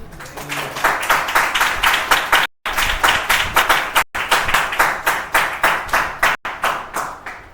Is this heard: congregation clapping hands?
yes